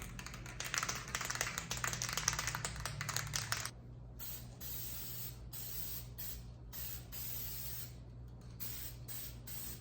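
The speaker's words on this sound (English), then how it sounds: "I'm just using the Walmart spray paint" A Walmart spray paint can hisses steadily for about four seconds, loud and close, then stops; light tapping and handling sounds follow in a quiet room.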